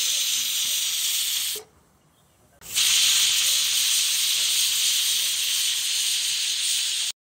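Pressure cooker whistle during cooking of mutton saaru, a long loud hissing steam release that drops out for about a second midway and then resumes just as strongly until it stops abruptly at the end.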